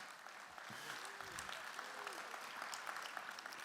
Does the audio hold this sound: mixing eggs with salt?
no